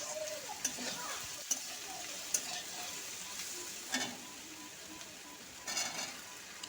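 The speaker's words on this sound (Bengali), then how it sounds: "তো এখন কিন্তু সবজিগুলো বেশ ভালো করে ভাজা হয়ে গেছে।" Mixed vegetables stir-fried in a pan, a quiet steady sizzle broken by several sharp spatula scrapes and knocks against the pan, no talk.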